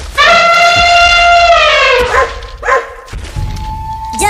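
Dogs bark during a chase, a loud close sustained yelping bark followed by a few shorter barks and thuds.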